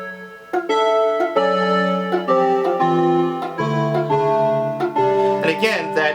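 Guitar chords in fifths tuning, played in a legato synth-like style with the lowest note left out, ringing as a steady sequence of sustained harmonic chords that change every second or so, close and clear.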